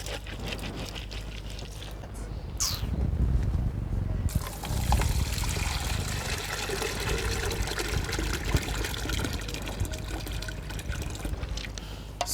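Water is poured into a pot while moi-moi is cooked in a Nigerian village, a sustained trickling and splashing stream that grows louder after a few seconds and runs on close by under faint background noise.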